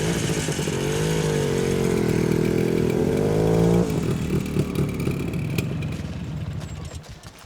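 A motorcycle engine runs with a loud, buzzing harmonic drone that rises and falls for several seconds, then drops off abruptly and fades out, heard alone without talk.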